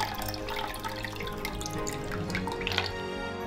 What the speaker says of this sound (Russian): Охлаждаю льдом воду и отмеряю 250 мл.